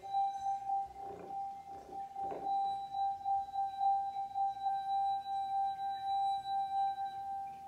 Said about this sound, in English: So dip your finger in water. This wine glass has a little amount of water in it.